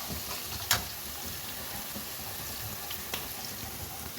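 Fresh ginger, green chillies and curry leaves fry in hot oil in a pan, making a dense, even sizzle with a sharp crackling pop near the start and another fainter one later.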